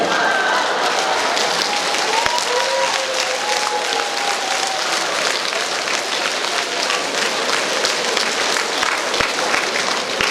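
Steady audience applause from a comedy show crowd in Truskavets, dense clapping filling the room at an even level throughout, with a few faint voices mixed in.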